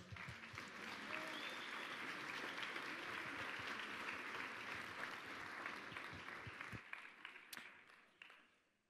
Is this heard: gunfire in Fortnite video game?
no